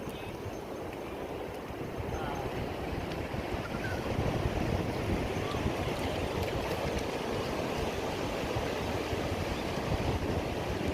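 Large ocean waves breaking at Lingayen beach, Pangasinan, make a continuous roaring surf wash with wind noise that swells slightly louder partway through and stays steady to the end, with no voices.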